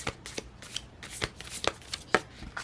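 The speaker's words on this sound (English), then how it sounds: "This is the only deck I really hate trying to shuffle." Tarot cards being shuffled by hand, a run of soft papery riffles and slaps repeating in quick irregular bursts, close and fairly quiet, with no talking.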